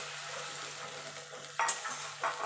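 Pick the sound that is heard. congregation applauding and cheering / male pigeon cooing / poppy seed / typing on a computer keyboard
poppy seed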